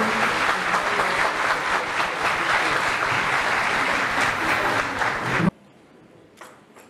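A seated audience at a ceremony honouring Türkiye's first Fair Play mother gives steady, full applause that cuts off abruptly near the end, leaving a quiet room with a faint sound or two.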